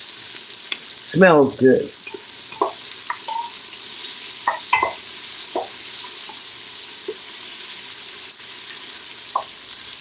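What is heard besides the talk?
vegetables sizzling in browning butter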